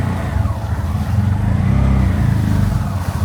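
A tuk-tuk pulls away on a Sri Lankan road, its small engine buzzing loud and close with uneven throttle surges, no voices over it.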